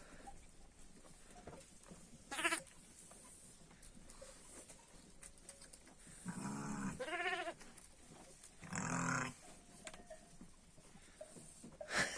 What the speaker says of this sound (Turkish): Kuzuları annelerine emiyorlar.